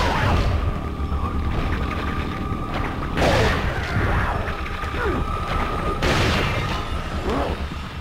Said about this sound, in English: we're going to have to use shotgun now. Risk a shot.